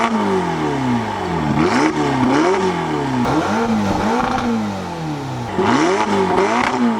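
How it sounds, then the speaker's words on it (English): The twin-turbo V8 of a 2017 Ferrari GTC4Lusso T is revved repeatedly, each loud blip climbing sharply and falling back to idle, with a brief lull before a final burst. "Time to give you the V8 twin turbo rev shots."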